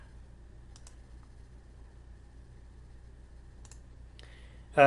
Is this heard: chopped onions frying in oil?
no